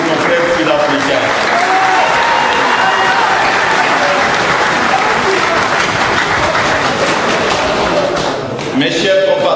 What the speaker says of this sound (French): Je vous demande d'applaudir pour nos frères sud-africains.